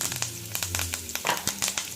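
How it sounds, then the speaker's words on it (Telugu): Curry leaves dropped into hot oil with tempering seeds in a pan on a stove, giving a close, crackling sizzle with sharp spitting pops over about two seconds. "ఇందులో కరివేపాకు వేసుకోండి."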